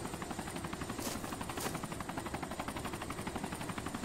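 Helicopter in a zombie video game, its rotor thumping in a steady, rapid beat at moderate distance with faint game effects in the background and no talking.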